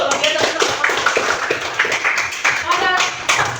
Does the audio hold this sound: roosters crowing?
no